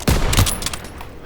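A short burst of gunfire rattles during a battle for Marigny in a war video game, several sharp close shots in quick succession that fade into a lingering echo.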